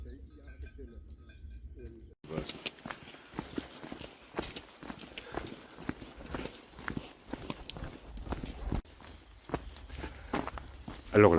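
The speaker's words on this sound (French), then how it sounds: "je vais filmer un troupeau de cheval" A herd of horses walking along, hooves clip-clopping in an uneven, continuous patter at moderate distance, with a quiet, muffled start before the steps come in.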